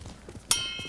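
Horse hooves clop in a few quick, soft steps in the video game Ghost of Tsushima, with a short metallic ring partway through.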